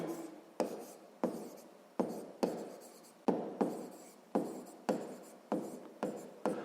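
A pen scratches across paper in short, regular strokes, about a dozen evenly spaced bursts that each fade quickly, close and fairly quiet with no talking.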